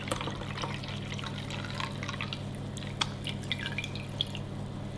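Pomegranate juice is poured into a one-litre jug in a kitchen, giving a continuous liquid splash broken by several sharp drips and small plops, close and moderately loud, with no talking.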